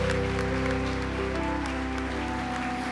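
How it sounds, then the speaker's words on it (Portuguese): Church congregation applauding in worship, a dense steady wash of clapping over sustained musical tones and low hum, continuous and moderately loud. "Vamos aplaudir e adorar o nosso Senhor."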